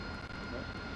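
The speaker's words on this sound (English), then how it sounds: "Place the water switch in the takeoff position and observe an increase in RPM, fuel flow, and jet pipe temperature" AV-8B Harrier jet engine in DCS World running steadily with water injection engaged, a continuous broadband whine and roar with a faint voice underneath for about a second.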